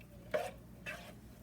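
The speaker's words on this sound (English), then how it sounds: "And now we're going to take our mixing tool. We're just going to stir everything around." A mixing tool stirs food around in a pot, giving two short scraping, sloshing strokes about half a second apart, close and fairly soft, with no voices.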